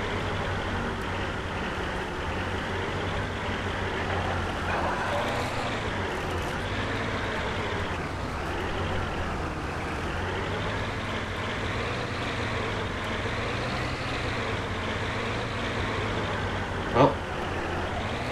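A car engine from the video game Dead Island drones steadily under way, a continuous low rumble holding level for the whole stretch with a brief sharp knock near the end.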